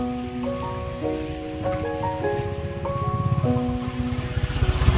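Heavy rain on a morning outing after a downpour that left water pooled everywhere, a steady close hiss with pattering that grows louder toward the end, under a background of sustained tonal music.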